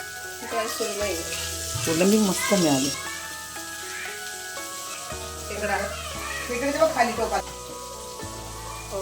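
Chicken frying in a pan at home, a steady sizzle running beneath several people talking and fading in and out over the clip.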